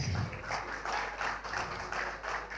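Conference audience clapping in a hall, a steady patter of many hands with soft rhythmic swells, fairly distant and low in level under a constant background hum.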